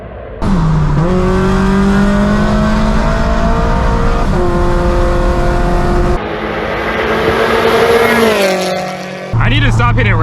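A turbocharged Scion FR-S engine revs hard while racing a Nissan 370Z, rising through gears with loud sustained acceleration, a brief lift and shift, then a sharp rev again.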